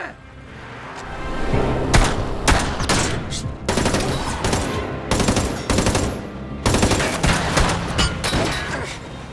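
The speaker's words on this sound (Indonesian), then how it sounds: "tiga wanita pun harus menjadi korban dari tembakan Taeho yang berusaha menghabisi mereka semua" Rapid bursts of gunfire from a movie fight scene ring out loud and close, with repeated volleys of shots separated by brief pauses as the gunman stops to reload.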